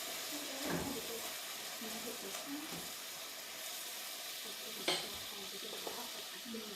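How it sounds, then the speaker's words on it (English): Beef browning in a pan alongside carrots and onions, with a steady quiet sizzle, a few spatula scrapes and a sharp clack as the meat is turned. "I'm going to take a moment just to flip over my beef, get nice and brown"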